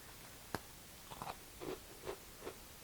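Several sharp, crisp crunches of biting into something brittle, one clear snap followed by softer chewing crunches at an uneven pace, close and quiet.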